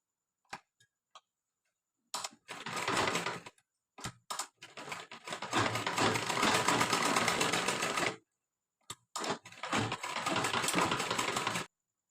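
Bursts of a sewing machine stitching a lehenga blouse, rapid mechanical rattling runs of a few seconds each, separated by pauses and faint clicks, close and fairly quiet with no voices.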